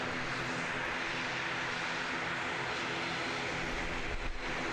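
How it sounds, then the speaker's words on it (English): An ATR turboprop airliner departing Christchurch Airport, New Zealand, at sunset, its propeller engines a steady, broad roar held at fairly even loudness throughout, with no talking. "Beautiful departure there from the ATR."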